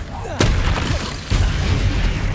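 A Confringo explosive spell blast from Hogwarts Legacy lands as a loud boom, followed by a second heavy blast a moment later, both in a dense crackling game mix with a voice calling out spells.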